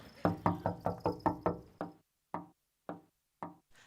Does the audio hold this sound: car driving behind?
no